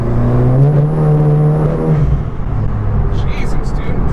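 A stripped, caged 2015 VW MK7 GTI Stage 3 track car with limited-slip differential driving hard through curves, loud steady engine drone and whir close inside the cabin, easing slightly midway, with faint voices underneath.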